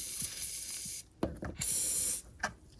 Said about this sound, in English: I want to spray in between the gap of the retainer nut and the casing of the lower unit